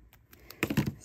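A paper piece trimmed at its edge, faint small ticks followed by a cluster of quick, close crisp snips near the end, with no voices.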